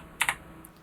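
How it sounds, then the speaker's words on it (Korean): Two quick keystrokes tap on a computer keyboard as numbers are typed in, close and crisp, followed by a fainter single tap. "우리는 숫자를 한번 키보드로 입력을 한번 해볼게요."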